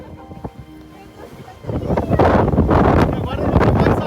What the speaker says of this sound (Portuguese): Agora não tem mais árvore, é só vento.